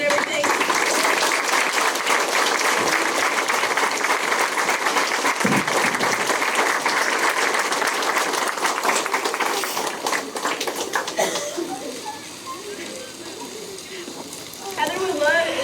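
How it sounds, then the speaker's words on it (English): Sustained crowd applause at a tournament fills most of the clip, then fades out into quieter room noise with a few scattered sounds. "maybe like a round of applause for everybody out here and everything"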